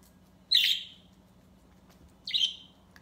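Two short, bright bird chirps ring out about two seconds apart, each a quick trill that fades, over a quiet low hum.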